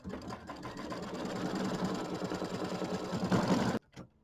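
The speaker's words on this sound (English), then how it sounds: "we're going to lay this down over our placement line, and then it's going to tack it down for us." An embroidery sewing machine stitches a tack-down line on a Kimberbell nativity bench pillow project, giving a rapid, steady mechanical whir and clatter up close for about four seconds before stopping abruptly.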